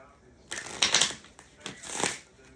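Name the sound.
shuffling cards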